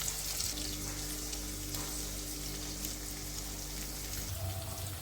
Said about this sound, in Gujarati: કાજુ હતા તે જ્યાં સુધી ગોલ્ડન બ્રાઉન થઈ જાય ડુંગળી ત્યાં સુધી તેને સાતળવું થોડી વાર